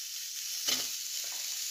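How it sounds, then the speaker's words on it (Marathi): Onion roasting in a pan makes a faint, steady hiss, with one brief louder scrape or stir near the middle, heard close and without any talking. "पहिल्यांदा कांदा भाजून घेते"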